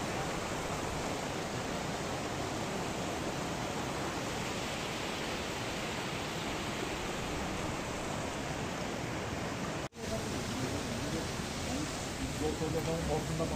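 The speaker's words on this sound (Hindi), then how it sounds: "पानी की बहुत तेज आवाज।" A constant roaring rush of water falling roughly 70-80 metres at Tiger Fall, loud and broadband, with a brief dropout near the end before the roar resumes.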